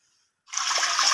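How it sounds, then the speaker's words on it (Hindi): Water poured into a pot of amla set on a stove, a sudden steady splashing gush that starts after a short silence and continues evenly to the end, close and fairly loud. "पानी का हम इसके अंदर डाल देंगे"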